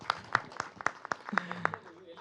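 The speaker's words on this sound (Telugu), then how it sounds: "ఆయనకి అందరూ చిన్న క్లాప్స్ ప్లీజ్." Scattered, evenly spaced claps from an audience at a movie pre-release event, sharp and fairly near, with a brief voice sound partway through.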